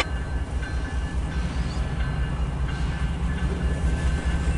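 A CSX double stack intermodal freight train rolls past, a steady close rumble of wheels and cars with a continuous grinding roar throughout.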